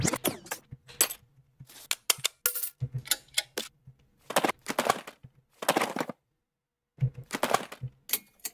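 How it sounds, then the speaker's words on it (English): Rapid bursts of clicking and clacking like typing on keys, coming in separate clusters with short silent gaps, close and fairly clear with no talking. "Is that like the sound of someone typing?"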